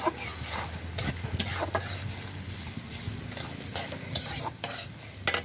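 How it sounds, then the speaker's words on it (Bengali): Onion and garlic frying in a pot: a steady sizzle runs throughout, broken by several sharp scraping stirs of a spoon against the pot. "পেঁয়াজ আর রসুনটা ভাইজা নিব সুন্দর মতো"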